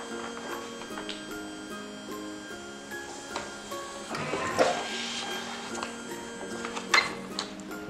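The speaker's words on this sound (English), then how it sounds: "you hit accept, and then you hit the run button here" An iCrease fully automatic paper creaser runs through a sheet, a quiet steady mechanical hum with soft ticking and a couple of brief louder clacks near the end.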